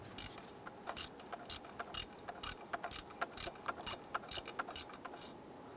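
Ratchet loosening 8mm EGR tube bolts on a Chrysler 300, a steady run of close, sharp clicking strokes in an even rhythm against a quiet background.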